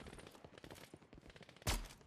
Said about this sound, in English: Oh, that's you shooting now.